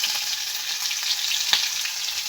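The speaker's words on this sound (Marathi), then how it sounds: "तेल गरम करून मोहरी घातली आहे त्यामध्ये, म्हणजेच राई. आता आपण जिरं घालूयात, त्यानंतर कढीपत्ता घालूयात." Mustard seeds, cumin and curry leaves sizzle in hot oil for a kadhi, a steady close crackle with a few sharper pops and no voices.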